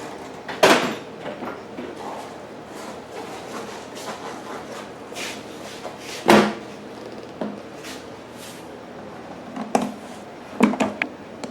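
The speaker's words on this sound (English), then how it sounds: "now we take our Phillips head screws and start putting the cabinet back together again" A Predator 3500 generator cabinet is put back together with Phillips head screws, producing scattered knocks and clacks of panels and metal parts, a few sharp loud hits among quieter handling noises.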